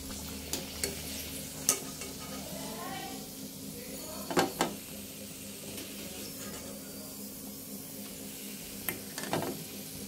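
Snacks frying in oil in a home kitchen for an afternoon meal, a steady low sizzle with occasional stirring clinks and scrapes, moderately close, no talking.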